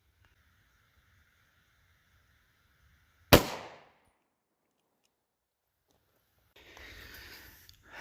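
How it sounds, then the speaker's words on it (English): A single sharp 9mm Federal HST +P 124gr gunshot fired into four layers of denim over ballistic gel, a loud crack with a short decaying tail after a quiet hum, followed later by faint rustling noise. "let's take a shot through the 4 layers of denim and see what happens."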